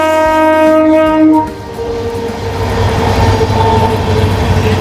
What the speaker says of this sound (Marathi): Bhagalpur to L T T train चालली आहे